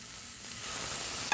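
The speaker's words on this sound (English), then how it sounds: "So I'm going to add these pieces of fish seasoned side down." Seasoned fish pieces sizzling in a hot cast iron pan, a steady close hiss of frying with faint crackles and a small pop at the end.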